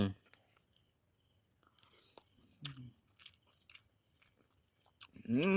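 Someone eats a vegetarian basil stir-fry made with soy protein tofu over rice. Sparse, close bites and crunchy chewing are spaced apart in near silence, with a few soft vocal murmurs.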